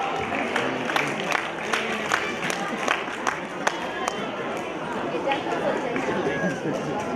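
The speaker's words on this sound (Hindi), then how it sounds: "तमाम का जोरदार तालियों से इस्तकबाल होगा" Crowd applause and scattered clapping welcome a guest onto the stage at an Islamic quiz contest, a steady wash of many hands with some chatter mixed in.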